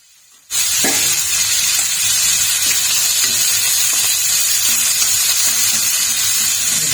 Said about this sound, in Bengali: এই চিংড়ি মাছগুলো একটু ভেজে নিচ্ছি